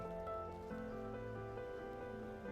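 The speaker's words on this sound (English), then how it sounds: "it was raining really heavy, and I did not have an umbrella with me" Heavy rain falls on a busy city street near Niagara Falls, a steady dense hiss with faint droplet patter under a low background hum, continuous and moderately quiet.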